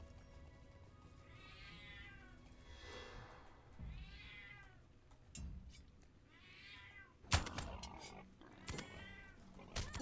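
Thief cat in Lord of the Rings Online lets out a series of drawn-out meows, four or five spaced calls over quiet game ambience, with a sharp clatter partway through.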